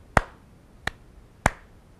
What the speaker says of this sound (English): And now we're going to clap three times.